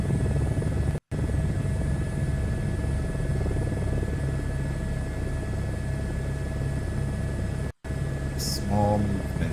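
A helicopter in Microsoft Flight Simulator 2024 drones steadily with rotor and engine noise, loud and continuous, briefly cutting out twice, with a faint voice near the end.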